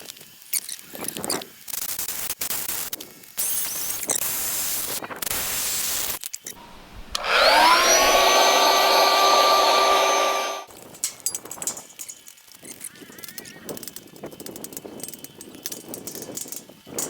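Bolts on a shed cabin base being cut off: about three seconds of loud, steady, high metallic shrieking that ends abruptly, with scattered handling clatter and rustling before and after.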